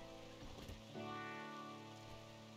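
Steady rain in the colony-building game Rimworld, a soft continuous hiss of drops beneath sustained musical tones, with no voices.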